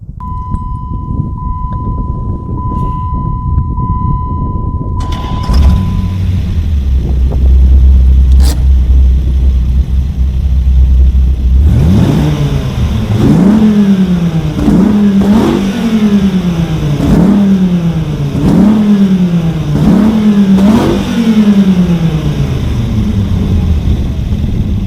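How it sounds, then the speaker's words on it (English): A 2004 Dodge Viper SRT10 with a 505-cubic-inch V10 starts with a whine, settles into a deep idle, then revs hard in a string of repeated rising and falling blips, loud and close, with no talking. "this is a V10 engine with 505 cubic inches"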